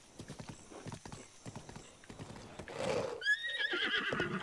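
A horse in the video game The Legend of Zelda: Breath of the Wild trots with rhythmic clip-clop hooves, then lets out a loud whinny near the end, with faint game sounds beneath.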